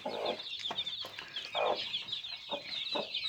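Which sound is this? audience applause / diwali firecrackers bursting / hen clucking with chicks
hen clucking with chicks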